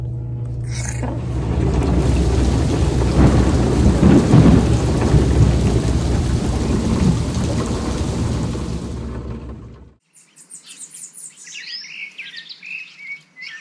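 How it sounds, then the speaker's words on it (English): A thunderstorm at a marina brings heavy rain with rumbling thunder swelling loud for several seconds, then the downpour cuts off abruptly, leaving quiet birdsong chirping afterward. "Ooh, it's storming."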